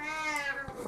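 A pet cat meows insistently and close by, with a long drawn-out harmonic cry that fills most of the second, heard alone with no talking.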